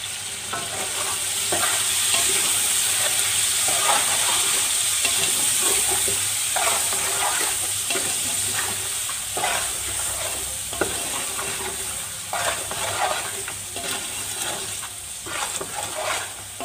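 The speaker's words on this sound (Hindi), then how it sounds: "और चिकन की भुनाई करेंगे।" Chicken pieces for kabuli pulao fry in hot oil with masala, giving a loud, continuous sizzle close up while a spoon repeatedly scrapes and stirs the pan; no one speaks.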